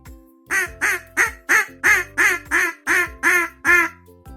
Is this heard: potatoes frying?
no